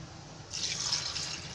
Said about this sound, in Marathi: हे तर पाणी एकदा गाळून काढते आणि नंतर परत दुसरं पाणी होते.